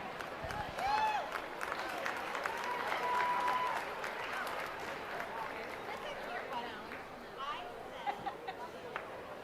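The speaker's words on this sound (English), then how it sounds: "I just want to give a big round of applause to these exhibitors that are out here." Crowd applause at a youth livestock swine show, broad steady clapping and chatter from spectators filling the arena, with a public-address voice briefly heard over it.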